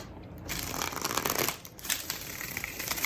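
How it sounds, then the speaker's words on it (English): Tarot cards are riffled and shuffled up close in a quick, crisp burst, pausing briefly before the rustling picks up again. "Ooh, that was a big shuffle."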